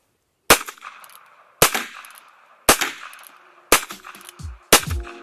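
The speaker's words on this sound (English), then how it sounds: "Well, Jacob, you gonna shoot the old revolver" An old revolver is fired outdoors five times at roughly one-second intervals, each shot a sharp, loud crack that rings out and fades before the next.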